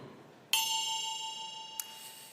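A single bell strikes once and rings out in a long, clear, sustained tone, signalling the start of a speaker's turn in a French debate event. A faint second tap sounds near the end while the tone fades slowly.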